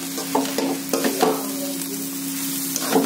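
Egg fried rice sizzles steadily in a pan while a spatula scrapes and tosses it in a few uneven strokes, close and fairly loud with no talking.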